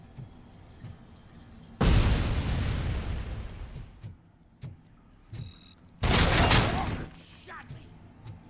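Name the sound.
grenade explosion in video game RoboCop Rogue City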